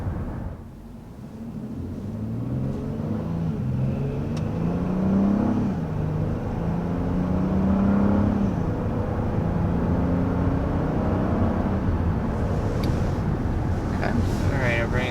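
Inside a 2022 Honda Odyssey minivan accelerating from a red light, a low engine drone and rising tire and road rumble fill the cabin steadily, with faint whir climbing in pitch.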